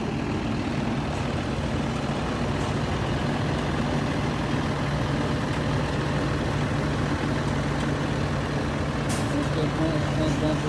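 A Class B truck idles and creeps forward through a cone course during a Maryland CDL skills exam, its steady low diesel rumble continuous and fairly close, with a brief air-brake hiss near the end.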